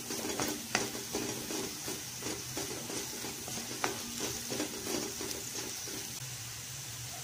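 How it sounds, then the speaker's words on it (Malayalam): Garam masala powder being sautéed in a pan for egg cutlets gives a soft, steady sizzle, broken by repeated spatula scrapes and sharp taps against the pan, with no talking. "ഗരം മസാലപ്പൊടി ഇതൊന്ന് നന്നായിട്ട് വഴറ്റിയെടുക്കണം."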